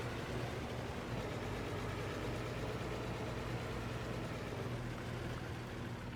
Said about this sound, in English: This tractor's pretty noisy.